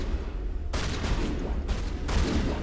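Shotgun blasts in the video game Mass Effect: three heavy, booming shots spaced irregularly over a constant low rumble of combat noise, close and loud, with no voices.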